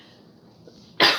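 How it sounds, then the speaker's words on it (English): A single short, harsh cough bursts out close by after near silence, abrupt and loud, in a kitchen while baking shortbread. "I'm turning away when I'm coughing"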